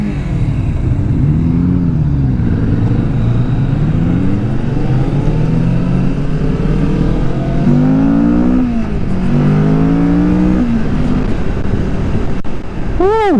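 A 2022 Kawasaki Vulcan S motorcycle accelerates in steady, close-up engine drone with rising and falling pitch sweeps as it picks up speed, under constant wind and road noise.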